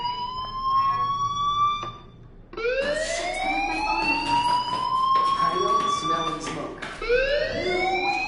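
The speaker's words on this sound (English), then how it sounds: "Hey, do you hear that fire alarm?" A fire alarm in the video game Life is Strange: repeated rising electronic whoops, a break then renewed cycles, loud and steady, with talk underneath.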